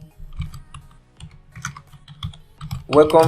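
Computer keyboard typing in irregular bursts of clicks with a soft low hum, close and moderately loud, ending in a brief louder noise.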